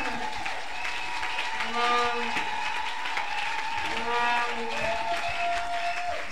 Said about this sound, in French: Quelqu'un acclame très fort le Seigneur.